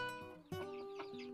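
Kampung chickens in a small breeding pen cluck and call in short, quiet bursts, with a couple of sharp, rising vocal notes close by.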